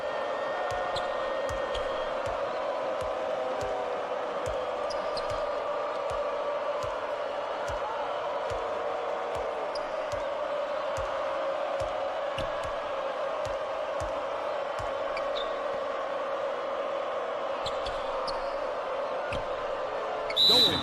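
Basketball dribbling in a college hoops video game, with a quick run of ball bounces over a steady wash of arena crowd noise and a short referee whistle right at the end.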